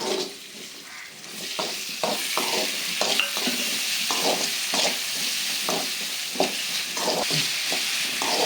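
Chopped tomatoes and onions sizzle in a pan while a utensil scrapes and stirs in a steady, repeated rhythm, close and clear with no talking.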